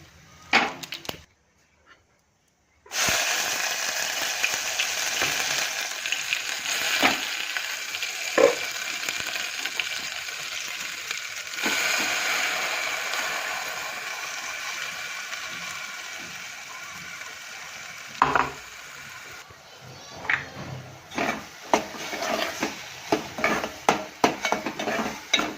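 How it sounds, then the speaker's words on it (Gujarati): Cumin, dried red chillies and garlic crackle in hot oil with mustard seeds for a coconut chutney tempering, a steady sizzle broken by a spoon scraping and clinking against the pan. "તો ચલો, હવે નારિયેળની ચટણીને વઘારી કાઢીએ"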